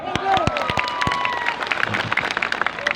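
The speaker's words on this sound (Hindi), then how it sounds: "जोरदार तालियां।" A crowd claps at a political rally speech, with loud distinct claps and cheering mixed with voices and chatter, the applause turning into a quicker, lighter patter.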